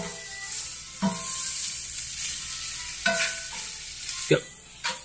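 Vegetables sauté in a hot pan with a steady sizzle, broken by a few sharp scrapes and knocks as a utensil stirs them about, close and fairly loud with no talking.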